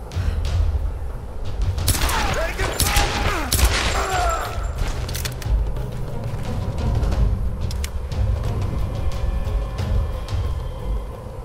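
Gunfire in the Tomb Raider video game, a rapid fusillade of sharp shots clustered early, followed by scattered cracks and thumps over a steady rumbling game background.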